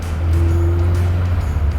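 Peugeot front-wheel drive car under way, a loud close steady engine drone with a low humming tone throughout and no talk.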